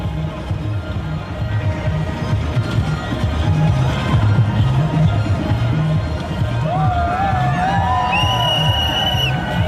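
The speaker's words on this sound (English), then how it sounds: "Oh, hear that crowd." Crowd cheering and whooping at a Calgary Stampede street party, with music and dancing going on, as the Nigerian Canadian Association of Calgary performs; a steady dense roar over a thumping beat, with whistles and shouts rising near the end.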